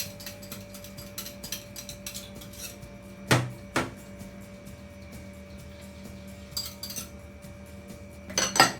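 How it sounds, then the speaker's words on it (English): A hand whisk beats eggs and yolks in a bowl, giving faint, quick ticking clinks of metal against the bowl with a few sharper, louder knocks. "Now in a bowl, I'll whisk the eggs."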